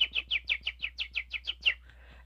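A person whistles in imitation of a bird, giving a quick run of about eleven bright, rising-falling chirps in steady rhythm, close and fairly loud, followed by a brief quieter tail.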